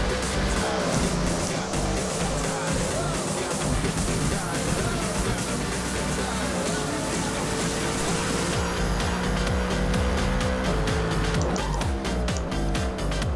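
A Mercedes-AMG and a Dodge Viper race on the Hockenheim circuit in the Forza racing game, engines roaring and revving through gear changes with tire squeal, loud and continuous along the straight.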